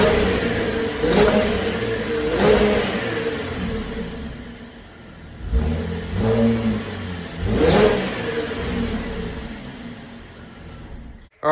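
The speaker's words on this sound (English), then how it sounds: "I'll just start it up so you can hear what it sounds like with the stock exhaust" A Holden VE Commodore SV6 engine with stock exhaust idles, then revs up in several short bursts, a deep exhaust rumble swelling and falling back, heard close with no talking.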